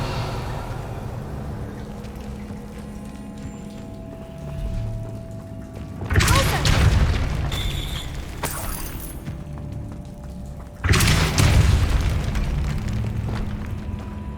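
A magical Revelio spell cast in Hogwarts Legacy sounds as two loud bursting whooshes, each a sudden bright blast that trails off over a low ambient game bed, spaced a few seconds apart.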